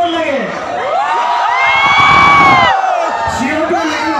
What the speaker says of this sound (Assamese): আপোনালোকৰ সকলোৰ কাৰণে এটা চিঞৰ লাগে